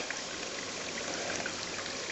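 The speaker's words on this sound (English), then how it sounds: "there's another waterfall here" A waterfall on a creek gives a steady, broadband rush of falling water, close and constant throughout with no breaks.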